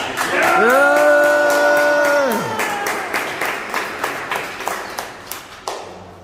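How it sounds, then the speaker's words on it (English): A crowd on the Anfield stadium tour claps and cheers for Jürgen Klopp's introduction. A sustained vocal cheer swells first, then gives way to scattered, rhythmic applause that fades toward the end. "So when he comes out, I always clap and cheer."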